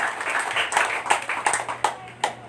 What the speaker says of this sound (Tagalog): Minsan pa nga po natin bigyan ng malakas na palakpak ang ating Diyos sa buhay.